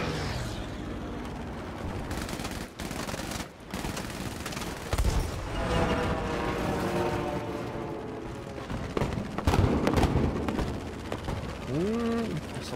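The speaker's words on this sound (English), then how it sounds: "A lot of flak." Rapid bursts of gunfire and booming explosions rumble continuously, dense and loud, like a battle with anti-aircraft flak fire in the video game Battlefield 5, with a brief voice near the end.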